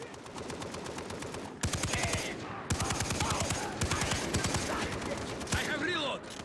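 Rapid automatic gunfire from the video game Far Cry 3, aimed at a tree: dense bursts of closely spaced shots in several runs with brief gaps, loud and close.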